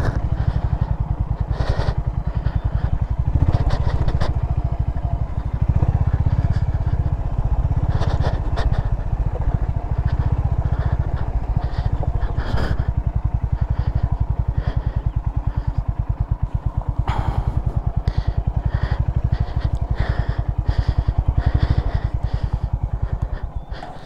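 A motorcycle ride toward the shore of Titi Lake in Upper Mustang, a continuous loud engine drone with pulsing throb and wind buffeting, steady throughout with occasional rattles and knocks.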